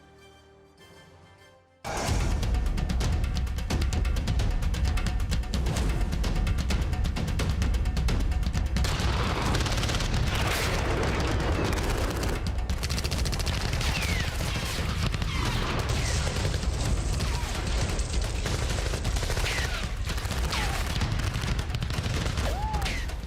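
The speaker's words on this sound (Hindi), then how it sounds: "कहीं बम धमाके हो रहे हैं तो कहीं मारधार, कहीं तेज रफ्तार कार तो कहीं गोलियों की बौछार" Sustained rapid video game gunfire with booming explosions bursts in after a brief quiet start and continues loudly and densely throughout, like a battle scene.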